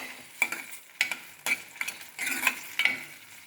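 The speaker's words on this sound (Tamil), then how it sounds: "கொஞ்சமாக தேங்காய் எண்ணெய் ஊற்றிக்கோங்க வெண்டைக்காயை வதக்கிக்கலாம்" Okra pieces being stirred in a little coconut oil in a pan, heard as a series of sharp scraping and stirring strokes with a light sizzle underneath, fairly close and moderately loud, with no talking.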